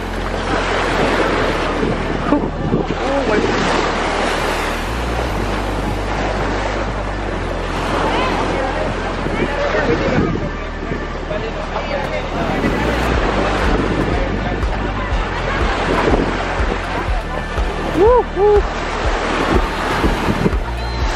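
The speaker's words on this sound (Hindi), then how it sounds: "लहरें आ रही हैं काफ़ी।" Ocean surf breaks on a beach in Bohol, Philippines, heard close as rolling, washing waves mixed with gusty wind buffeting the microphone over about twenty seconds.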